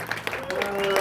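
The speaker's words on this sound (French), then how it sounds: "Can we clap for the Lord?" A congregation at a deliverance church service claps for the Lord, a brief burst of applause rising under a voice that speaks over it.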